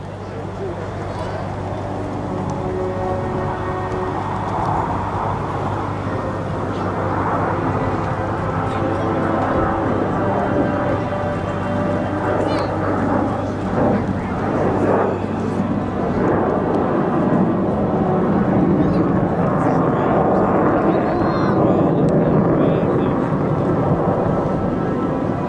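Blue Angels jets in formation fly a split S at EAA AirVenture 2017, a broad rushing jet roar that swells and lingers at a distance while an announcer talks over it throughout.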